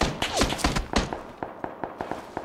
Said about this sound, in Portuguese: Já ouvi um tiro.